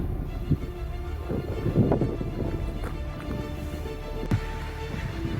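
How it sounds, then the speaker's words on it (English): Wind gusting across Half Moon Pass near Mount of the Holy Cross, Colorado, in darkening, changeable weather: a steady low rumble of wind buffeting the microphone, with a few brief stronger gusts and no voices. "You can hear the wind."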